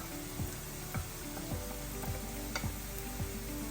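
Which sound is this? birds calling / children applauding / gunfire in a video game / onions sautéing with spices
onions sautéing with spices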